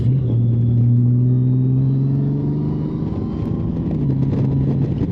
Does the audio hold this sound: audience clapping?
no